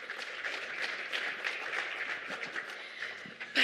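An audience applauds panelists at a conference closing, steady sustained clapping from many hands lasting several seconds.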